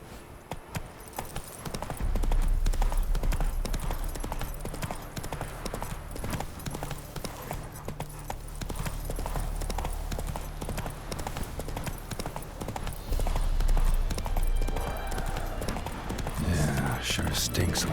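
Horse galloping in The Witcher 3: Wild Hunt, a steady clip-clop of hooves running continuously and fairly loud, with game dialogue and ambient sound layered over it.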